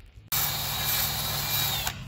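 A power sander working on wood, starting abruptly after a brief quiet moment and then holding a loud, steady whirring buzz close up before cutting off near the end.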